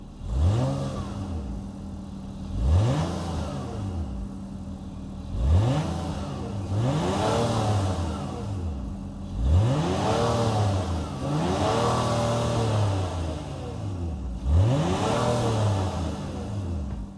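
A 2023 Acura MDX Tech's 3.5-liter V6 revs repeatedly while parked, each blip rising sharply then falling back to a steady idle, about seven close, loud revs in a regular rhythm.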